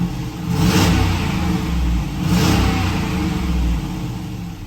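A Chrysler 300C engine revs twice, swelling and falling back, with a raspy, hissing exhaust tone from an exhaust leak throughout; no talk.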